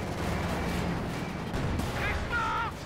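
A T-34 tank firing at a Panzer in a World War II strategy video game, with heavy booming cannon shots and rumbling battle noise that fill the mix under a steady layer of talk.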